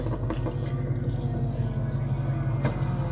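A Lamborghini sports car at an exotic car meet, its engine a loud, steady low rumble with brief revving swells, heard close throughout with crowd noise around it.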